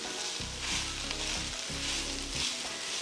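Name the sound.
fresh garden kale sautéing and being stirred in a pan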